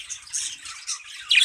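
Budgie squawking inside a breeding cage, where a red-eye male is paired with a hen sitting on eggs, giving a rapid run of harsh, scratchy high-pitched squawks and chirps that grow louder and sharper at the end.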